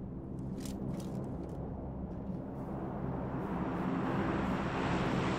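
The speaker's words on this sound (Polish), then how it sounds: "Samolot leci ze zrzutem." A supply-drop airplane flies over in the PUBG video game, its engine a steady, loud droning rumble that swells slightly toward the end, with no talking.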